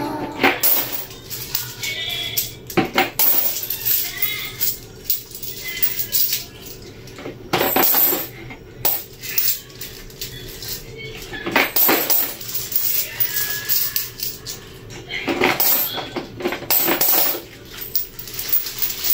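Coins, 5 and 10 pieces, dropped into a piggy bank, with repeated metallic clinks and jingling scattered through the stretch, close up, while a voice talks at intervals.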